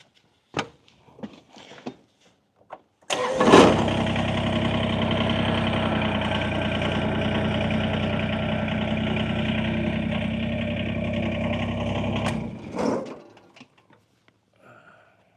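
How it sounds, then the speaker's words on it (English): Tractor engine starts with a sharp crank, then runs at a steady, loud idle for about nine seconds close by before cutting off, with faint clicks and knocks before and after. "Let me move the tractor out of the way."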